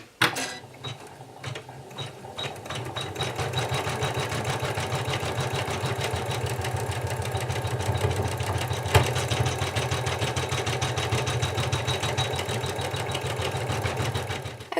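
An embroidery machine stitches a decorative outline on felt, a steady rapid mechanical chatter that runs continuously and loud with an even rhythm throughout, with no talking.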